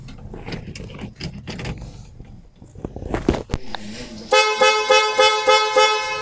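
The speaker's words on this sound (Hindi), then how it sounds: "हॉर्न आवाज़ चेंज करने वाला सिस्टम भी इसके अंदर।" Clicks and thumps give way to a loud electronic horn blaring in repeated pulsing bursts from a Mahindra Bolero pickup's horn sound-changing system, its tone different from an ordinary car horn.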